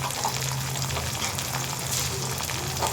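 Garlic and ginger paste sizzles steadily in a hot frying pan, a continuous close crackle of frying oil with faint stirring and no voices.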